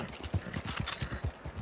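Horse hooves clip-clop in a steady galloping rhythm while riding in a Western video game, close and moderately loud with no talk over them.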